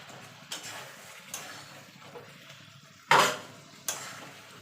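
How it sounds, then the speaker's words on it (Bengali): Potatoes are tipped into a pan of frying masala for a jackfruit and prawn curry, with one loud clattering drop and a smaller knock of metal after it, plus faint scrapes and a quiet sizzle in between. "এবার আলুটা দিয়ে দেবো।"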